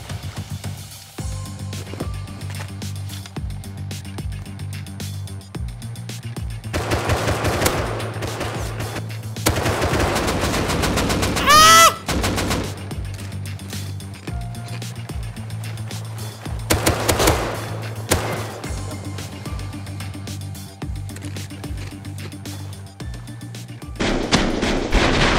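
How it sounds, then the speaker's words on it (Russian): Rapid bursts of video game gunfire aimed at the player in a CheZee match, loud and close, repeating in clusters with short pauses between volleys over a steady low background hum. "Ай, по мне стреляют."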